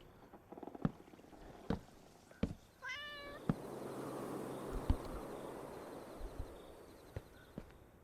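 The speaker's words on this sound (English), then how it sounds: "That is such a weird meow." A cat in the Minecraft video game gives one short, oddly warbling meow, set against a soft hiss and a series of sharp, evenly spaced clicks and taps throughout.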